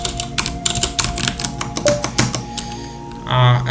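Keys clatter on a computer keyboard in quick irregular bursts of clicks and taps, close and distinct, with a short hum near the end.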